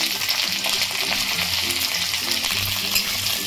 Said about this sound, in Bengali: বিনটা দিয়ে আমি হালকা ভেজে নিচ্ছি।